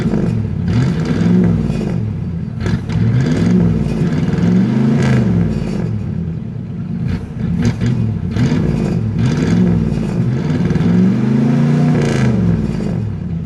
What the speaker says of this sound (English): Let's see what happens if we rev it.